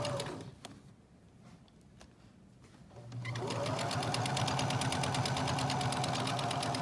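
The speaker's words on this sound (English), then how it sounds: "it just moves smoothly through the machine." A sewing machine stitches a fabric drawstring bag: after a few quiet handling taps, the motor whirs up and runs a steady rapid needle chatter, close and continuous to the end.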